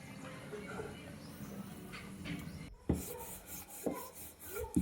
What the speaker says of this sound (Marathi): तर आत्ता मला चपात्या लाटायच्या आहेत